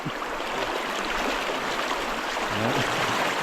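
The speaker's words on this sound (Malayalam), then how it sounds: "അത്യാവശ്യം നല്ല ഒഴുക്കുണ്ട്" Fast-flowing river water rushing over rocks in a cold forest stream, a continuous close broadband roar with no voices.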